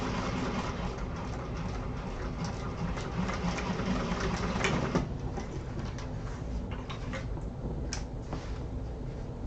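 A sewing machine stitches fabric in a class setting, running as a steady, continuous mechanical whir at close range with no speech over it.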